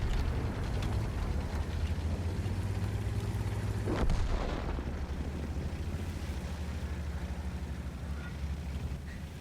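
Heavy Ho-Ri 3 tank gun in a video game fires one booming shot near the four-second mark. The blast rises over a constant loud engine rumble and battle noise that carries through the whole stretch.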